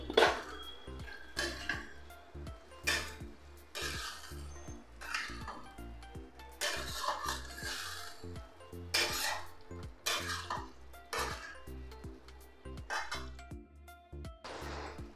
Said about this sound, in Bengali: এবার আমি সয়াবিনগুলো দিয়ে দেবো একসাথে কষানোর জন্য, ভাজা সয়াবিন